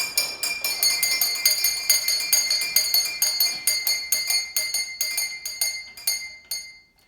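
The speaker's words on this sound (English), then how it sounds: "they pull the handle, it creates tension, and makes one of these bells ring." Small servant call bells in Campbell House, rung by pulling a handle, ring in rapid succession, bright metallic clinks repeating steadily and gradually slowing and fading toward the end.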